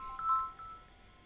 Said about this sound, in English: Who's ringing me? Why is my brother ringing me?